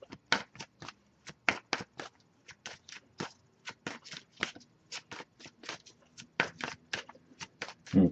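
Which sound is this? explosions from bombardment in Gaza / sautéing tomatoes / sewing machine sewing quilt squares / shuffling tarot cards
shuffling tarot cards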